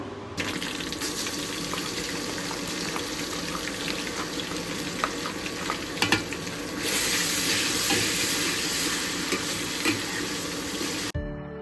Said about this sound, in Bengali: আর একটু ভাজা ভাজা করে পেঁয়াজটা এখন দিয়ে দিব আদা রসুন বাটা